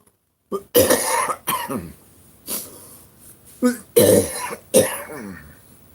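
A man with a throat tickle has a coughing fit on a winter homestead: several harsh, close coughs and throat-clearing bursts in irregular clusters, separated by short breaths and pauses.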